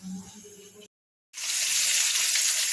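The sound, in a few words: potatoes frying in oil for mutton curry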